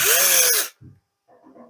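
A cordless drill spins briefly and loudly, backing out the screws on the rear panel of a washing machine, then cuts off, followed by a few faint clicks and handling noises.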